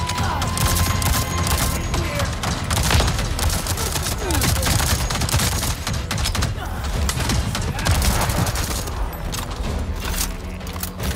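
Gunfire in the video game Avatar: Frontiers of Pandora, a dense, continuous barrage of rapid shots and bursts filling the whole stretch, loud and close, with a voice occasionally speaking under the din.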